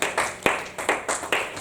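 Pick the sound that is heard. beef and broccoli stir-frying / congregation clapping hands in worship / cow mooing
congregation clapping hands in worship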